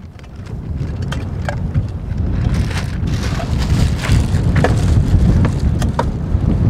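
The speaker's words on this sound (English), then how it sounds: "the wind is really blowing" Strong wind blowing outdoors, a loud, steady roar with gusty rumble that swells slightly midway, plus scattered light clattering knocks throughout.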